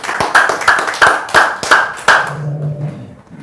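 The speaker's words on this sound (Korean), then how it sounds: "박수로 환영하겠습니다." A small group claps in greeting a guest lecturer at a character-education talk, about seven loud, evenly spaced claps, close and distinct, tapering into quieter sound at the end.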